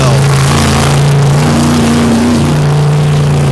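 Big block Chevy and Oldsmobile drag boat engines on Lake Erie hold a loud, continuous roar with a steady droning pitch that swells slightly before settling.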